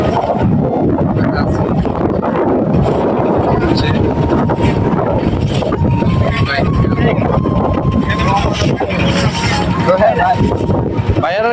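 Boat ride on water, steady broadband engine and water rumble with wind buffeting the microphone throughout, people talking over it.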